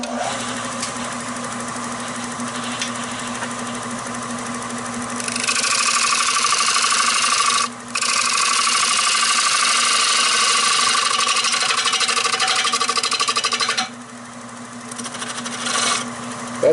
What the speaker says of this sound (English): Let's get hollowing this thing out.